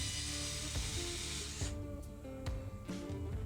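A small DeWalt hand-turned twisty tool grinds as it deburrs the primer pocket of a .308 rifle case, a soft, continuous scraping with a few faint clicks and taps, quiet and close.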